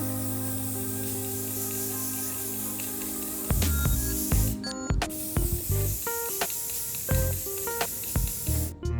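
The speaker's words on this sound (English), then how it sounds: "Now we're going to cover it with another clear coat to seal it all in" Clear coat sprayed over a glitter finish on an old guitar body, a continuous hiss from the spray gun, then broken bursts and clatter near the end, with no talking.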